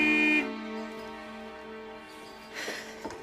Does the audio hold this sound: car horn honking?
yes